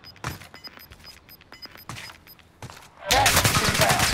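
Gunfire in Warzone Resurgence, the battle royale shooter: a few scattered distant shots and faint clatter, then a sudden loud, sustained burst of close, crackling fire near the end.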